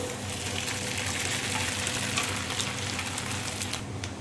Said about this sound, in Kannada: ಇವಾಗ ನಾನು ಇಲ್ಲಿ ಮಿಕ್ಸ್ ಮಾಡಿ ಇಟ್ಕೊಂಡಿದ್ದ ಸಾಬುದಾನ ಹಾಕ್ಕೊಳ್ತಿದ್ದೀನಿ